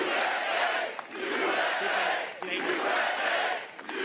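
A political rally crowd roars in two sustained waves of cheering and shouting, loud and dense, with a brief dip between them.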